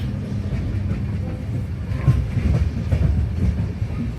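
Train running on rails during a rural South India train journey, a close, loud rolling rumble with rhythmic clickety-clack of wheels over rail joints, steady throughout.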